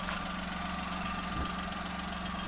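Nissan Roox with a 660cc turbocharged T6A engine idling, heard as a steady, even low hum with a faint mechanical tick, constant and close throughout with no voices.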